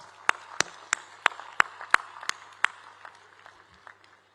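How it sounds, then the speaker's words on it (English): At a university convocation, a few distinct, evenly spaced claps ring out close by, slowing and fading toward the end over a faint room hum rather than a full crowd ovation. "Let us welcome my dear student Sudhir Bhai with a very, very warm applause"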